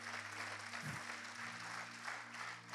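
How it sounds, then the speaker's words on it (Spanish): Applause from a church congregation at a worship service, a steady wash of clapping that fills the room throughout, with a low hum underneath. "Denle un aplauso al Señor, aleluya."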